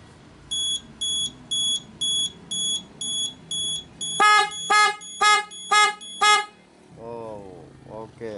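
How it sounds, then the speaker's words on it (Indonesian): A motorcycle alarm is set off through an Android-app remote: a series of evenly spaced high electronic beeps, then louder honking horn-like blasts in quick succession, close by, followed by brief talk. "jadi begitu canggihnya untuk di alarm ini, lewat Android juga bisa sekarang"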